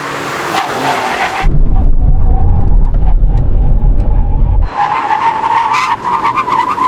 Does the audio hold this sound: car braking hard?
yes